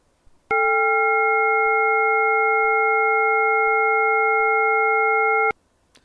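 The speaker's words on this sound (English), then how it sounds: "Now here's a 4-tone." A four-tone audio test signal for adjusting transmit audio through RS-BA1 remote radio software holds steady and clean for about five seconds, starting and stopping abruptly.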